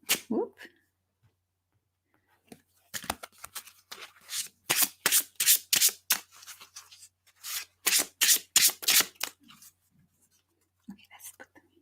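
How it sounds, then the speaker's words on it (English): Magic trading cards shuffled by hand in quick bursts of crisp riffling, several rapid flurries close up with short pauses between, a faint voice at the start and end. "Just mixing these cards too."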